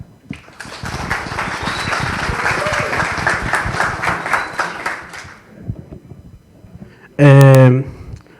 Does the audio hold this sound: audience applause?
yes